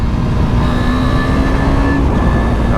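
A KTM RC 390 motorcycle ridden hard with clutchless upshifts, its engine loud and steady with a strong low drone, a rising tone that dips briefly at a gear change, and wind rush throughout.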